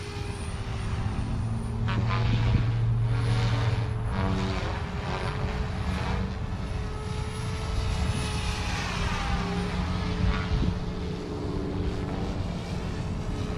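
Small OMP Hobby M4 or Goosky RS4 RC helicopter in fast forward flight outdoors, a steady whirring rotor drone with a high-pitched motor tone and shifting pitch as it passes, continuous throughout.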